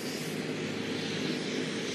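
An MQ-9 Reaper unmanned drone flying over Curaçao gives a continuous, even aircraft engine roar heard alone with no talk.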